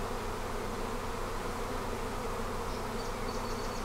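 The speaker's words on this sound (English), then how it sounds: "What you're really witnessing is a swarm of bees that flew out," Many honey bees buzz together as a swarm outside the hive in a thick, unbroken drone that stays steady and close, with a few faint high chirps near the end and no talking.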